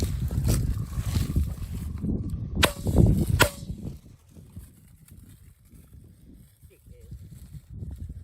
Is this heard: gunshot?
yes